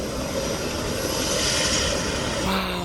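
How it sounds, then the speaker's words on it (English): A single-engine medical helicopter coming in to land at a park helipad, its loud continuous engine and rotor roar steady and close throughout, with a slight change in tone near the end. "Single engine helicopter."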